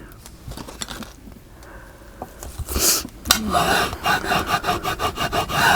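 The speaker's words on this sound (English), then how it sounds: "Burnish it in. I'm sorry, that mat makes a lot of noise." Paper being burnished by hand on a noisy craft mat, heard up close as repeated rubbing and rasping strokes that grow louder and faster toward the end, with no talking.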